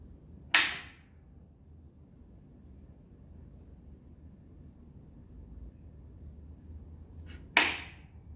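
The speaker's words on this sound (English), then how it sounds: "you'll hear a quick click, around about 3 second delay" Heathkit SB-200 amplifier fitted with a soft-start circuit switching on: a sharp relay click, then a quiet hum for several seconds, then a second crisp click as the delayed relay pulls in.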